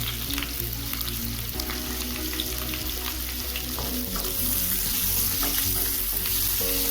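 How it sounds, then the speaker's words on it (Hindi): Roughly chopped onion sizzling in hot oil with asafoetida and a dried red chilli for Maharashtrian kanda poha, a steady close crackle with occasional stirring scrapes, no talking. "चलिए प्याज को अच्छे से गोल्डन ब्राउन होने तक हम भून लेते हैं।"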